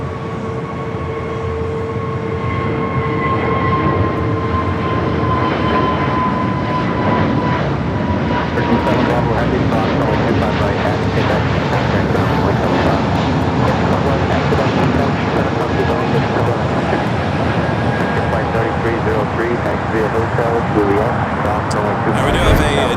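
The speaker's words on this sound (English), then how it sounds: "Austrian is our next arrival here on the south. Flight 5-1, the 777 at 200 yards," An Austrian Airlines Boeing 777 arrives on the south runway at LAX, its loud, broad jet roar holding steady throughout and close by, with a descending engine whine, while a commentator talks over it.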